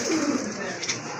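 Pigeons coo at a pigeon sale: a short, soft, low cooing under a wash of broad background noise.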